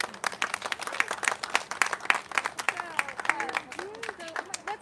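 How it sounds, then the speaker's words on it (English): An audience at a women's right to vote centennial kick-off in Santa Clara County claps and applauds steadily, with dense overlapping hand claps and a few cheers or whoops rising through the crowd. "Let's give them another round of applause."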